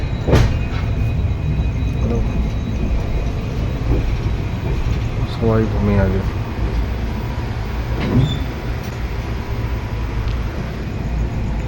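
Inside a moving passenger train on an overnight journey toward Hyderabad, a steady rumble of wheels and carriage runs throughout with rhythmic clacks over the rails and a brief squeal, while a voice speaks quietly at the start.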